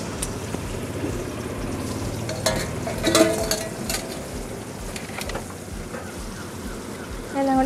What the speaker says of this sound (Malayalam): എല്ലാം കൂടെ ഇളക്കി കൊടുത്ത വേവിക്കാൻ വെച്ച് കറി സെറ്റായി.